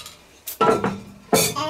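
A metal lid is lifted off a pot of paprika chicken on the stove, giving a couple of close, bright clanks and clinks of cookware.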